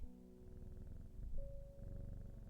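A cat purrs in a soft, steady low rumble close by, with a faint tonal hum from a cozy rainy-day game session underneath.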